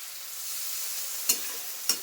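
Potatoes cooking with poppy seed sizzle steadily in a pan as water is added. Two sharp scraping clanks of a stirring utensil cut through the hiss near the end.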